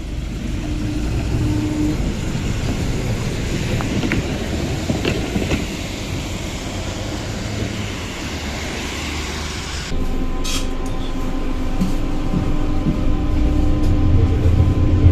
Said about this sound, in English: let's ride the slightly modernised old console tram which has DC pulse width modulation